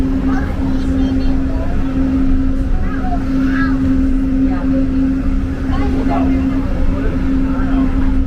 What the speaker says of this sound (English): We're actually going backward on the monorail.